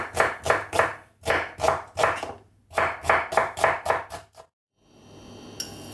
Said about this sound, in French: les couper en deux dans un premier temps et les émincer